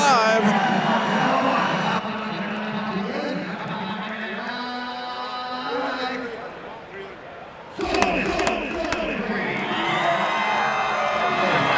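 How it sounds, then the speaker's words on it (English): An auction crowd cheers and whoops on the bidders for a 2024 Scottsdale truck sale, loud and sustained, with shouting voices and a sharp burst of noise partway through. "The crowd exhorting the bidders"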